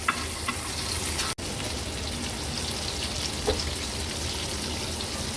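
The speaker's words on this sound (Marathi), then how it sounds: "अगदी कमी तेलावरच लो टू मीडियम फ्लेमवर ह्या तुकडे आपण तळून घेतले आहेत" Shark fish pieces shallow-fry in a little oil over low to medium flame in a pan, a dense continuous sizzle and crackle close by with one brief break, no voices.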